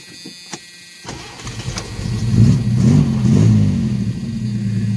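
A 1983 Ford Mustang convertible's carbureted engine, just repaired for a carburetor fuel leak, cranks briefly, catches and fires up, then revs loudly and steadily close by.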